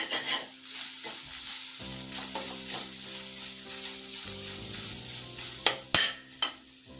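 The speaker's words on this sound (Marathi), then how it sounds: "त्यामध्ये आपण आणखीन दोन चमचे तूप घालणार आहोत आणि हा नारळाचा पीस व्यवस्थित परतून घेणार आहोत" Coconut pieces sautéed in ghee in a pan for homemade coconut chikki, with steady sizzling and stirring throughout, a low background hum, and a few sharp scraping knocks of the spoon near the end.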